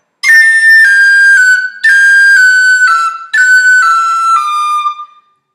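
A clear whistled or flute-like phrase from the Irish tune The Rambling Pitchfork, three bright descending runs of notes with ornamental cuts, each held briefly before a short gap, played alone and close.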